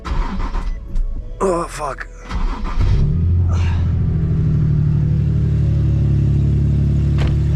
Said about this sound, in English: Let me start the car for a second.